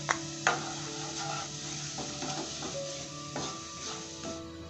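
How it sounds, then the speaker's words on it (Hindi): Chopped garlic and crushed chili fry in a pan for chicken chowmein, giving a soft, steady sizzle broken by sharp clinks and scrapes of a utensil stirring against the metal. "सबसे पहले ऐड करेंगे चॉप गार्लिक, थोड़ा सा इसको हल्का सा भूनेंगे।"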